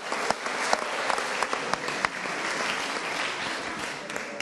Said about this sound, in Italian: arriva l'applauso della sala alla Chiavari Scherma